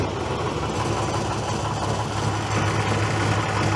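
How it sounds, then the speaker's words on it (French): A 1970s Deutz tractor diesel engine idles with a steady low, throbbing drone, loud and close, holding an even rhythm with no voices. "un vrai tracteur des années 70, et qui a pour particularité de tout le temps démarrer"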